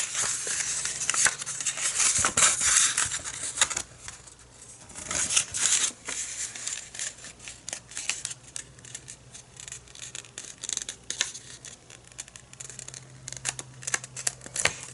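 Two-colour scrapbooking paper being folded and creased by hand for a junk journal, with crisp crinkles, rubs and sharp snaps in bursts that come and go, close and fairly loud against a low steady hum.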